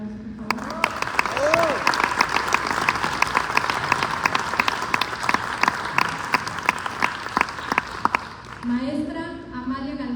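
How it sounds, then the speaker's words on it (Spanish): A theatre audience at a state theatre festival opening applauds the director of the INCA, sustained dense clapping from a crowd with a voice speaking over the start and end. "Un aplauso, por favor."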